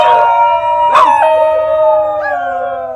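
New Guinea singing dogs howl together in several overlapping, sustained, wavering tonal voices that rise and slide, close and loud throughout, with no talk.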